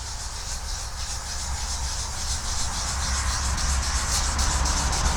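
Steady, close abrasive rubbing as grime and road grit are sanded and polished off the ageing headlights of an old 2005 Mini, a continuous even hiss with no talk.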